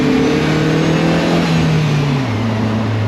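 A Secma Fun Buggy, a light open buggy, sets off with its engine droning loud and close, the pitch climbing and then dropping as it picks up speed.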